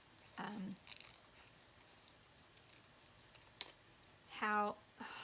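Scissors cut freehand paper letters in a few crisp, distinct snips spaced across a quiet room, with faint clicks and light speech between the cuts.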